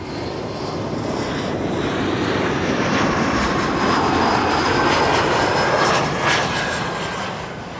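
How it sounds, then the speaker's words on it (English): A KLM Embraer 175 jet arrives at Amsterdam Schiphol Airport with a loud, sustained engine roar that swells toward the middle and holds before easing slightly, heard outdoors from nearby with no talking. "This is KLM flight 1174 arriving from Stavanger, and that's an Embraer 175."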